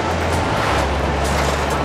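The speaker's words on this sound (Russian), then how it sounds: "Какой-то поезд." A train passes in the Ghost Recon Wildlands video game as a loud, continuous rumbling roar with a steady low drone, filling the scene without any speech.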